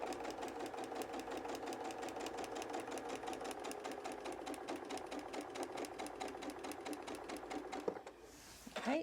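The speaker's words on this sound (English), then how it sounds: "we're just stitching right through and keeping my eye on that line so that my needle's staying on the line as I go" Sewing machine stitching through patchwork pieces with ordinary thread, a steady fast needle rhythm running close and loud for most of the clip before stopping near the end, followed by a brief rustle.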